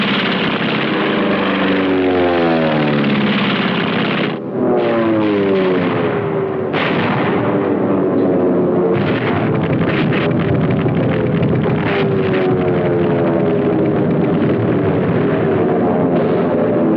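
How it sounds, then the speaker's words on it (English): Naval aircraft engines drone and dip over explosions and gunfire in archival Battle of Midway footage, a dense, steady, loud wall of old film-soundtrack noise with wavering engine pitch throughout. "In the Pacific, our naval aircraft inflicted the first decisive defeat on a large Japanese fleet, winning the Battle of Midway."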